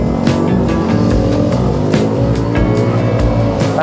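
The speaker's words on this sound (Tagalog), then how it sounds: "traffic pa rin dito." Dense road traffic late at night on MacArthur Highway heading toward Pampanga, a loud continuous drone of engines with repeated vehicles passing close by.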